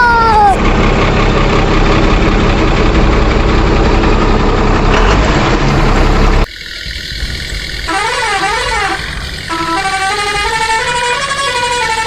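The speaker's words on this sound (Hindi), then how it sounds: "गाड़ी स्टार्ट कर।" A JCB engine in a video game runs at a loud steady idle with harsh mechanical roar, then drops away to quieter game sounds with wavering tones over a low engine hum.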